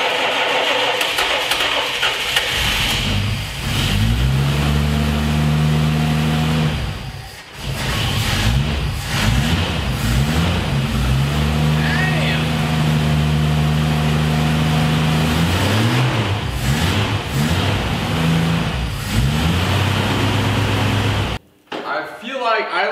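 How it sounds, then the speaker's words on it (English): A 1970 Dodge Challenger engine cranks in several rough attempts, then catches and runs in a loud, uneven, lumpy idle close by. There is a brief dropout near the end. "Let's see if this thing even fires up."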